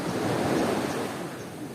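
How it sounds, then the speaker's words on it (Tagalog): Ocean surf washing onto a beach, a broad steady roar of breaking water with wind buffeting the microphone, fairly faint and without voices. "Grabe, alon yun."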